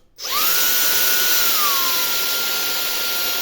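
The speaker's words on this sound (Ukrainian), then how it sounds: "Ось працює два движка." An electric boat inflation pump with two motors runs at a steady, loud high-pitched whine, starting abruptly and holding with a slight pitch drop midway; no talk.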